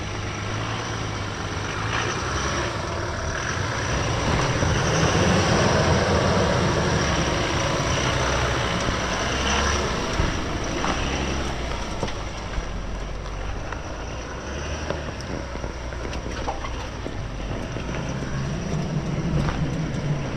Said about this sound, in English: Just grabbing the wheel there, stopping it from spinning.